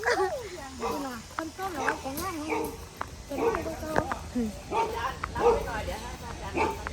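A dog gives short yips and whimpering barks at close range, repeated in quick bursts while people talk over it.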